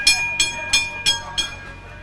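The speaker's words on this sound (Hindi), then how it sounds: "तो ये एसी ट्राम है और इसका सफ़र हम शुरू करते हैं।" An air-conditioned tram runs through Kolkata, with a steady rumble under evenly spaced, sharp rhythmic clacks that repeat about three times a second, loud and close.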